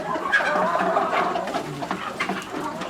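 Pradu Hang Dam native chickens on a farm fill the air with a steady, close chorus of clucks and chirping calls, overlapping busily throughout.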